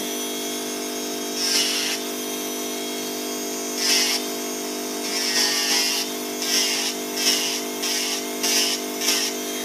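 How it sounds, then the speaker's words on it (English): A small electric nail drill buffing a fingernail whirs in repeated short bursts against a steady background hum, pausing between each pass. "So I'm going to use my French drill now and basically just buff up my nail."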